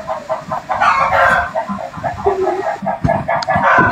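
A flock of chickens clucks busily while a rooster crows, loud and close. The cackling goes on continuously throughout with no clear speech.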